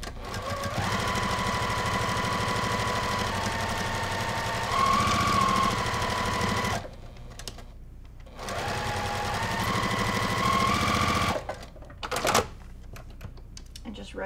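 Sewing machine chain piecing quilt squares, a close, steady mechanical whir running in long stretches with a short pause between them, ending in a few brief clicks.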